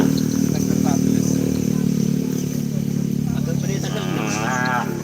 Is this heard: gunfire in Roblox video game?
no